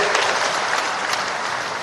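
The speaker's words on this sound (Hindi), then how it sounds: "दोनों हाथों को उठाकर ताली बजाकर स्वागत कीजिए, अभिनंदन कीजिए।" Audience applause at a live Gramoday programme event welcoming Narendra Singh Tomar, a dense, steady wash of many hands clapping that holds at even loudness throughout, with no voices over it.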